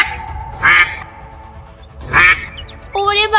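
A cartoon mother duck quacks loudly in two separate bursts, with a squeaky voiced honk near the end and soft background music between the calls.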